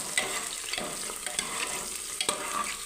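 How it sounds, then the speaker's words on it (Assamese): Sliced onions sizzle in refined oil with bay leaf, cloves, cinnamon, cardamom and raisins, a constant close frying hiss broken by regular scraping stirs of a spoon against the pan. "ৰিফাইন পিঁয়াজ দি লৰাই আছোঁ লগত তেজপাত লং ডালচেনি ইলাচি খিচমিচ সকলো দি দিছোঁ"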